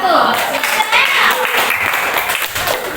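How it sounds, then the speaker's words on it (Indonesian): Classroom applause from students for group 1 during a lesson, a dense spread of clapping lasting the whole stretch, mixed with children's voices and cheering. "tepuk tangan buat kelompok 1"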